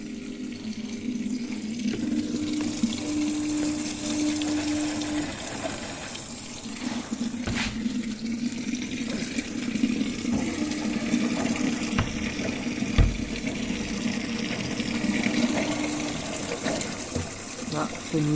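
Water rushes steadily into a Brandt washing machine filling for the rinse cycle, a continuous close gushing with a faint mechanical hum and occasional clicks, while a voice talks over it.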